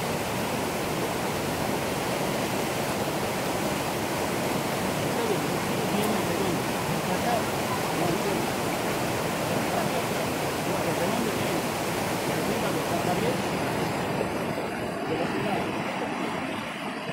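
The flooding Los Noques river in Tucumán rushes past as a steady, loud roar of churning water that holds unbroken from start to finish, with no voices over it.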